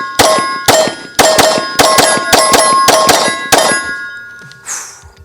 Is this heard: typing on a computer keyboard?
no